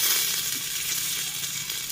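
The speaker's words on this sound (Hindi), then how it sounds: "अब मैं डालूँगी इसमें हरी मिर्च" Green chilies hitting hot oil in a pressure cooker give a steady, loud, continuous sizzle and crackle with no talking.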